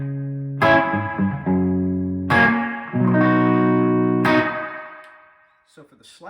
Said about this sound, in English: So our first sound over here, just our wet delay one